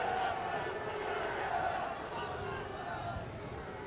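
A rugby league crowd chants the Cougar call at a Keighley versus Hull KR match, a steady, massed roar of voices rising all around the stands and holding throughout.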